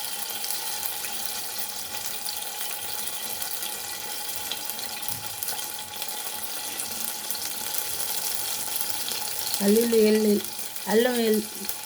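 Ginger garlic paste frying in hot oil with cloves, a steady broadband sizzle running throughout, with a voice briefly speaking near the end.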